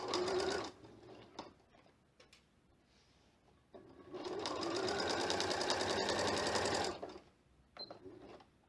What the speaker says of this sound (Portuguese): Desço a agulha e continuo a costura.